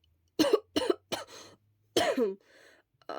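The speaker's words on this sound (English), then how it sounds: "Shouta coughed into the crook of his arm." A man coughs into the crook of his arm: three quick, close coughs, then a heavier, drawn-out cough with a rough throaty tail.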